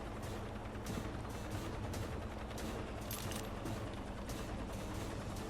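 Automatic helicopter gun in the rescue game Dustoff Heli Rescue firing as a steady, dense stream of rapid shots. The fire runs unbroken at a constant, loud level throughout.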